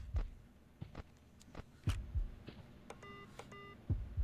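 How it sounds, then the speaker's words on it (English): A heartbeat effect from the horror game FNAF Remake on Roblox thumps in soft, low double beats at a steady pace, mixed with faint electronic beeps, with no talk over it. "Why is my heart beating?"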